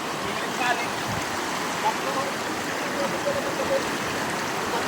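A strong river current rushes steadily past a fish trap, a loud, even wash of flowing water with small splashes and no pause in it.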